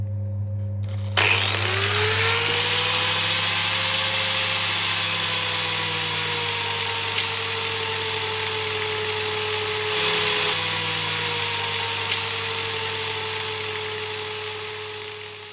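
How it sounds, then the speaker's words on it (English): A grinder cuts a whitewall into car tyre rubber, starting abruptly and then running loud and steady for about fifteen seconds with a sustained whine whose pitch dips and recovers as it bears into the rubber. "Now it's time to get our grinder."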